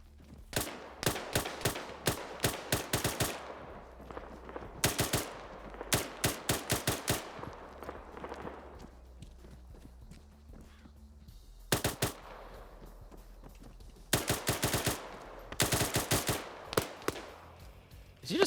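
Weapons fire in the video game Battlefield 6, including grenade launchers, rapid bursts of gunfire coming in clusters separated by short quieter gaps over about eighteen seconds.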